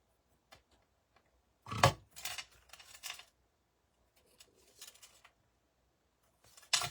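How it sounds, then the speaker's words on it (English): Scissors trimming frayed ribbon for a handmade card, a few quiet close snips and rustles spaced apart with silence between. "take my scissors and I'm just going to unbraid this so it's a little frayed. I'm going to trim off the"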